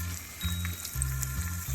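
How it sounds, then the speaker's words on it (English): Keto chicken cordon bleu pieces fry in hot oil with a soft, continuous sizzle, while a low steady hum and a faint tone run beneath. "Okay, as you can see, they're frying up nicely."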